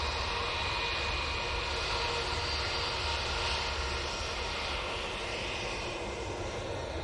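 A British Airways airliner's jet engines roar at an airport, a steady, loud, broad rumble that holds evenly throughout with no voices.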